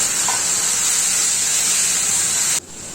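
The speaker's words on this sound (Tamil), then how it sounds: "தக்காளி சேர்த்து வறுத்துக்கோங்க" Tomatoes and curry leaves frying in a pan, a steady, close, bright sizzle and hiss that cuts off sharply near the end.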